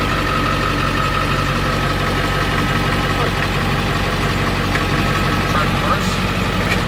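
A tow truck's engine idles steadily and close by with a low rumble while its newly installed clutch is tested through slow gear changes, with a faint knock in the background.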